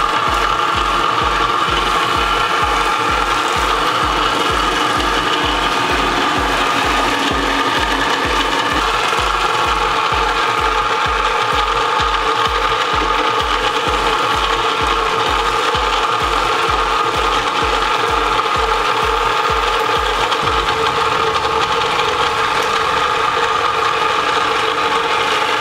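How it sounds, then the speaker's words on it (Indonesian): An electric mixer beats batter, giving a steady loud whir with a fast regular thumping pulse that stops near the end while the motor keeps going. "kita mixer ini kurang lebih 5-7 menit saja"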